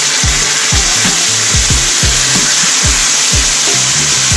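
Strawberries with a splash of coconut milk sauté in a pan over medium heat: a loud, steady sizzle runs under regular low scraping strokes about twice a second.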